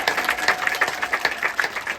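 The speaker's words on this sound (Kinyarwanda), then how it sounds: "mwongere Imana amashyi" A crowd applauds with fast, dense, continuous clapping that stays close and fairly loud for the whole short clip.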